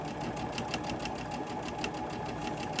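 A sewing machine stitches quilt fabric in a steady, rapid mechanical whir with a regular ticking pulse, close and continuous throughout.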